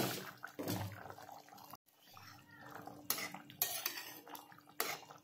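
A taro curry with fish, stirred in a cooking pot, gives off clattering scrapes of a metal spoon against the pot and soft wet sloshing in short bursts, close and fairly quiet, with a gap partway through.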